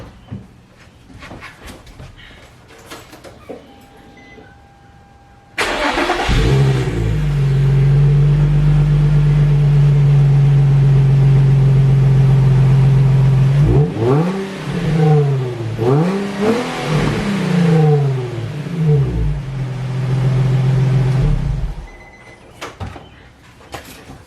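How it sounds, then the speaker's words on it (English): Nissan 350Z with its stock OE exhaust, starting and idling loudly, then revved up to about 5,000 rpm several times in quick rising and falling bursts before shutting off, recorded close to the car. "that right there is about a 5K rev stock OE exhaust"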